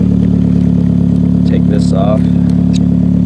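A 2009-up Lancer Ralliart idles through a DC Sports single exit exhaust while warming up, a loud, steady low drone with a brief spoken remark over it.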